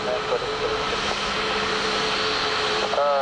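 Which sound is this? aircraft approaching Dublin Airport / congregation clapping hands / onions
aircraft approaching Dublin Airport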